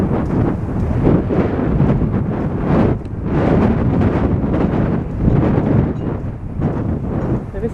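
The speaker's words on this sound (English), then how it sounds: "There is a bit of wind today" Strong wind buffets the microphone on an open beach near a pier, a loud continuous roar swelling in gusts with no voices.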